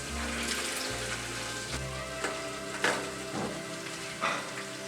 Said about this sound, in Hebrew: הבשר מטוגן עד לרמה שאני צריך, מוסיפים גזר